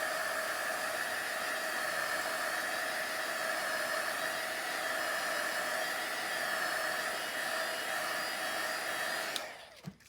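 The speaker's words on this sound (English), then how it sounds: "we would just hit that with the heat gun" A heat gun blows hot air in a continuous, even roar for about nine seconds, then switches off with a click and a brief rattle.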